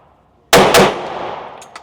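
A pistol fires a rapid double tap of two loud, close gunshots about a quarter second apart, with a ringing tail afterward. The gun is a Glock 43x or a ported CZ P10C.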